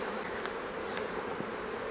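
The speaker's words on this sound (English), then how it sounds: "Sometimes you just let bees be bees." Soft, steady buzzing of many honeybees at a hive, a low continuous hum with faint individual wingbeats flickering past close by.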